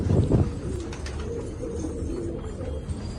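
A pigeon coos softly nearby, repeated low throaty calls over a faint background hum, with no talking.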